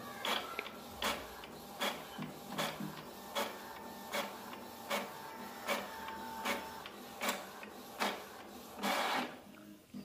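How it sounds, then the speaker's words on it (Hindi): An Epson printer, previously skipping lines, prints a page with a steady series of about a dozen rhythmic mechanical strokes from the print head, close and moderately loud in a quiet room. "ये रहा मेरा प्रिंट निकलना शुरू हो चुका है"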